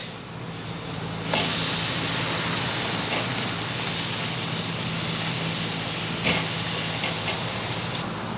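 A steak sears over an open fire with a steady, loud broadband hiss, a sharper flare near one and a half seconds as the meat is flipped, then continuous sizzling with small pops.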